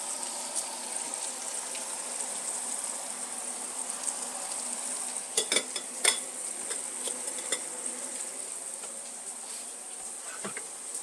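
A steak sizzles steadily in a hot pan, a faint, even hiss with a few soft clinks and taps partway through.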